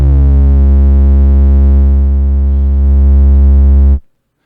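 A sustained VCO synth bass note, played from a MIDI keyboard through a basic single-pole passive low-pass filter, drones deep and steady with strong low harmonics and a slightly muffled top, then cuts off abruptly.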